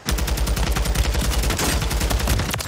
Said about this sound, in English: Can everyone stop shooting at him?